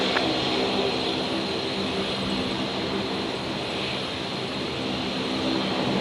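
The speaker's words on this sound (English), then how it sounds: "there's the second dashy coming in too" A Dash 8 turboprop lands at Brisbane Airport, its engine roar a steady, broad drone that holds at an even level throughout with no speech.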